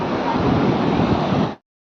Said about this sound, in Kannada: ಈಗ ನೋಡ್ರಿ ಫುಲ್ ಸ್ಪೀಡಾಗಿ ಬರ್ತವೆ ಅಲೆ ಹಿಂದಿಂದಲೇ ಹಿಂದಿಂದಲೇ ಬರ್ತಾವೆ